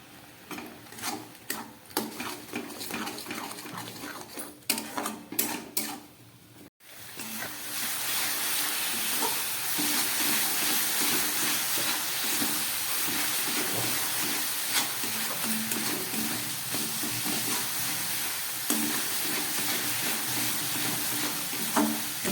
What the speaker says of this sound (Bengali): গুড় আর নারকেল অনেকটাই ভাজা হয়ে গেছে।